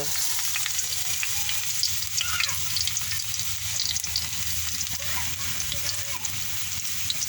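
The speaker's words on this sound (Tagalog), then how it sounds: "Dahil mainit na ang ating cooking oil, ilalagay na natin ang ating bawang." Garlic fries in a small amount of hot cooking oil, giving a dense, steady crackling sizzle that stays close and even throughout, with no one talking.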